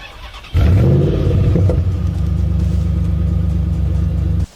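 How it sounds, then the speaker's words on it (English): A Mercedes GLC SUV with a 2.0-litre engine, 48-volt mild hybrid system and 9G-tronic transmission, its engine suddenly surging into a loud close rev that drops into a steady deep drone, then cuts off at the end. "Listen to this downshift."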